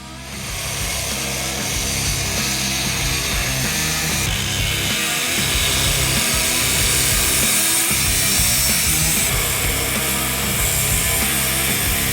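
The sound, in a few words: cutting steel exhaust pipe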